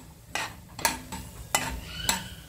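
Chopped cashews and almonds roast on low heat in a pan for coconut sweet rice. Four distinct scraping stirs sound close over a faint low sizzle.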